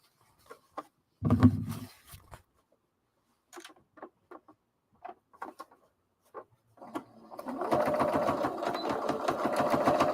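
Sewing machine stitching a fabric tabard, starting with a loud short thump and scattered clicks, then a sustained close whirring run of rapid stitches for the last few seconds.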